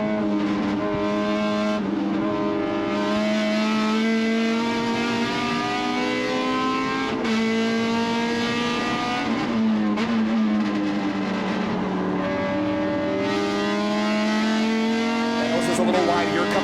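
Race cars at a Midwest racing festival: engines drone and rev continuously, shifting pitch up and down as cars accelerate and brake around the track, loud and steady, with commentary talking over them.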